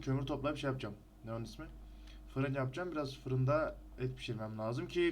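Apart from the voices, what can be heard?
No everyday noises stand out.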